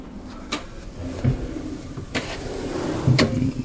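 Cabin drawers on the Wonder of the Seas cruise ship open and close in three distinct slides and knocks, close by in a quiet stateroom.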